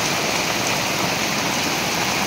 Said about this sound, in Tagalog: Ayan, abot na po kami ng malakas na ulan dito